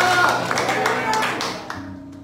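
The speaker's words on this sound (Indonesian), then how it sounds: "Yang setuju tepuk tangan dari Allah kita" Scattered claps from a congregation at a Christmas church service sound briefly under a voice and tonal sound, then thin out and fade near the end.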